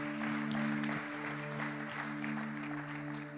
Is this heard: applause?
yes